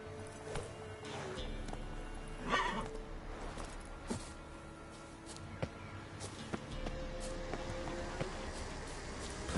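Roach, the horse in The Witcher 3: Wild Hunt, gives a quiet whinny amid soft hoof clops and low swampy game ambience, all fairly faint.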